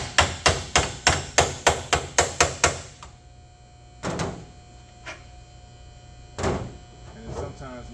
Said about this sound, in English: you can just drop the hammer down like that